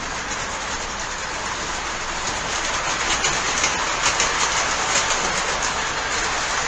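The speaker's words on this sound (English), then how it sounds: "It's pulling a pretty heavy train." A heavy model train of die-cast and weighty cars rolls steadily along its track, a continuous loud rumble with faint clickety-clack of the wheels throughout, nothing else over it.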